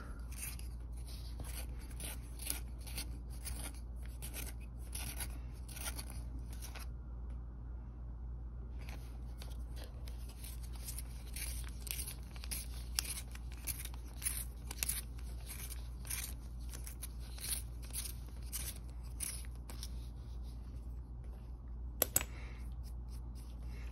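Pencil being sharpened in a Blackwing One-Step long point hand sharpener, quiet repeated scraping and grinding strokes in a fairly steady rhythm, close up with a faint background hum, no talking.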